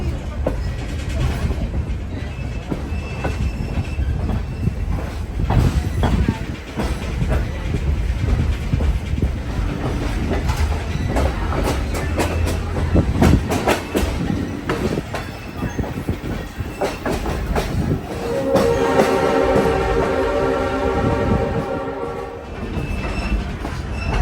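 Passenger train rolls along the tracks through the Cumberland Narrows near Cumberland, Maryland, a loud steady rumble with wheel clatter, a horn blast near the end, and voices talking underneath.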